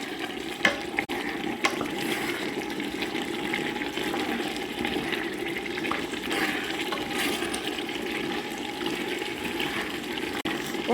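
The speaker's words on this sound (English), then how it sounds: "I have to be frying this for 2 minutes." Beans fry in a pot with green spices, giving a steady, dense sizzling hiss throughout with a few faint clicks and no talking.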